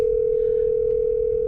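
An outgoing phone call rings through the car audio system of a 2026 Tesla Model Y Juniper, heard as a steady, unbroken tone that holds at an even level throughout.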